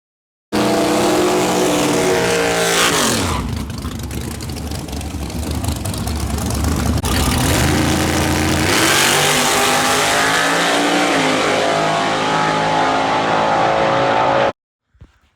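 A race car at a Shadyside outlaw race, driven by Kevin Dalton, roars loudly and continuously, its engine revving and sweeping in pitch as it accelerates past, with no talking.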